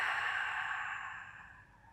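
A single long exhale during a beginner home workout floor exercise, a soft breathy sigh that starts fairly clear and fades steadily over about two seconds, close and alone.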